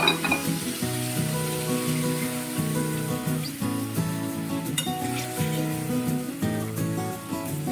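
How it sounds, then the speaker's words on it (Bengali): Pre-fried koi fish go one by one into a pan of simmering gravy, which hisses and crackles steadily up close, with faint bubbling and no voices. "ভেজে রাখা মাছগুলো আমি দিয়ে দিচ্ছি এক এক করে"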